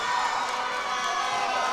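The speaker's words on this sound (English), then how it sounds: "The crowd cheers her on." A packed arena crowd at a 55 kg women's world weightlifting championship cheers steadily for a limping home-country lifter, a dense continuous roar with shouts and whoops rising throughout.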